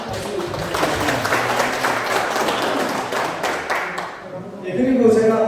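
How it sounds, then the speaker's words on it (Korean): An audience applauds after a lecture, with dense, sustained clapping from many people in a hall. A voice speaks over it near the end. "다시 한번 큰 박수 부탁드립니다"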